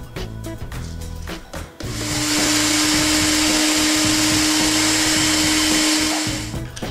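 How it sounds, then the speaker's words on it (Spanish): A Nutribullet blender grinds oats into flour: a few clattering knocks from handling come first, then a loud, steady whirring motor roar with a constant hum runs for about four seconds before cutting off, with no one speaking. "Yo lo voy a hacer en el Nutribullet, porque se me hace más rápido."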